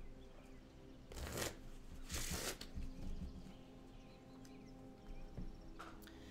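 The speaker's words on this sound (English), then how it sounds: "The deck I'm shuffling is a red-green Madness deck from my childhood." A deck of Magic cards, a red-green Madness deck, is riffle-shuffled nearby in two crisp bursts of rapid flutter, followed by softer card handling against a quiet room background.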